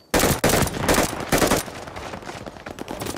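Loud bursts of rapid automatic gunfire in Call of Duty: Vanguard, fired in close, repeated volleys with brief gaps between them, followed by a denser clatter of shots.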